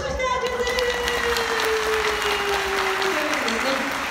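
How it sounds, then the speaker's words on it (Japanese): Audience applause at an assistance dog demonstration, continuous even clapping from a crowd with a voice speaking over it. "盛大な拍手ありがとうございます"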